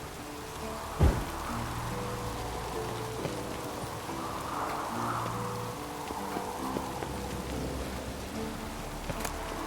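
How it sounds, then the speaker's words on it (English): Rain in The Witcher 3 falls as a soft, constant patter behind a quiet layer of game music, with one brief thump early on and a few faint taps. "Looks like rain."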